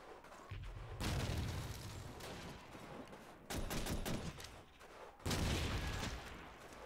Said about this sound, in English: this guy's freaking using an SMG.